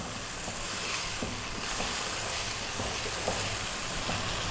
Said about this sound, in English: Stay on this high heat and stir it fairly often.